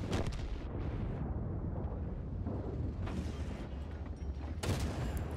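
Tank gun firing a tracking shot in World of Tanks, a loud boom amid dense, continuous battle rumble with a sharp blast near the end.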